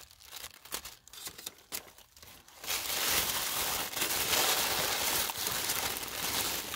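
A mail envelope is cut open close up, first with a few short crisp paper sounds and then a long, steady rough tearing and crinkling that stays loud to the end.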